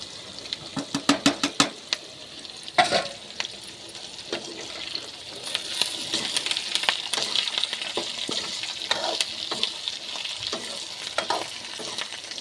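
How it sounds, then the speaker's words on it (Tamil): Garlic fries in plenty of hot oil in a pan while cooking a brinjal poriyal, giving a steady close sizzle with scraping stirs and clicks of a spoon against the pan, moderately loud throughout. "அதிலே எண்ணெய் நிறையா இருக்குதுல்ல, அதிலே நல்லா பொரிஞ்சிடும் பூண்டு."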